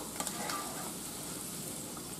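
Trinity onions sautéing on medium-high heat for shrimp creole, a steady close sizzle with a couple of brief clinks of a spoon or pan near the start, no talk.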